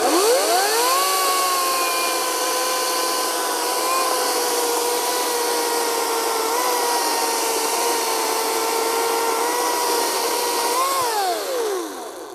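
A Ryobi 40V 14-inch battery chainsaw runs up to a steady high whine, bogs slightly as it cuts through poplar wood for about ten seconds, then spins down, close and loud throughout.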